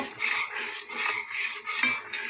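Spiced meat being stirred and fried in a pot, with a utensil scraping and clinking against the metal in steady, repeated strokes over a bright sizzle, close and fairly loud, no voices.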